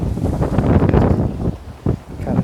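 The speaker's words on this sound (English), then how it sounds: "It's just really super windy." Strong wind buffets the microphone on a beach in Long Beach, California, a loud, uneven roar with gusts swelling and dropping over a couple of seconds.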